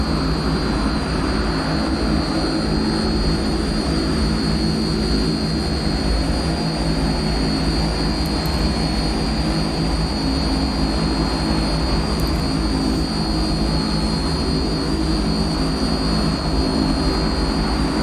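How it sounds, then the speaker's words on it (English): Heavy twin turboprop engines of a C-160 Transall transport aircraft in a flight simulator game, a steady loud drone with propeller hum and a sustained high whine, continuous throughout with no talk. "Some massive engines on that plane."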